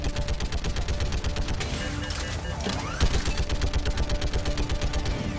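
Rapid, sustained automatic turret fire in the video game Mass Effect 3, a dense, loud, rhythmic stream of shots running nearly the whole clip, with a brief heavier impact partway through.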